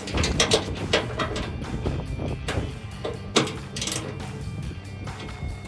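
A ratchet wrench tightens exhaust bracket bolts on a 2017-2020 Ford F150 5.0L, with irregular bursts of rapid metallic clicking and clanks close by, separated by brief pauses and a faint background hum.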